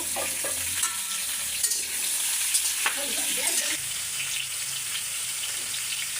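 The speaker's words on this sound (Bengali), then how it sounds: "আলু পটল কাটা শেষ, আমি এখন এগুলো হচ্ছে সবগুলো ভেজে নেবো।" Potatoes, pointed gourd and garlic frying in a pan give a steady, close hiss of sizzling oil with occasional brief crackles and stirring scrapes throughout.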